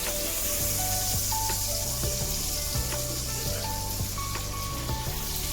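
Steady hiss of food frying in a pan, crackling and popping continuously throughout at moderate level, with no talking.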